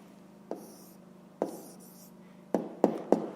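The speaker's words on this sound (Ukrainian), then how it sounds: "Записуємо тоді відповідь." Pen or chalk taps and short strokes as a maths answer is written down in a lesson, a few distinct close marks with quiet gaps between them.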